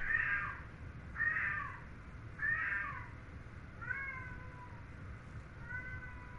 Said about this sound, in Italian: Ma tu lo stai sentendo, il mio gatto?